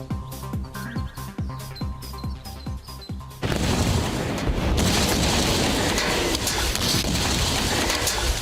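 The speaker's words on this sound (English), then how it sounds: "the rapid generation of hydrogen gas should produce quite an explosion" After a stretch of rhythmic tapping and clicks, cesium dropped in water erupts in a sudden burst of rushing, crackling noise that sustains loudly, violent explosive fizzing as hydrogen gas forms.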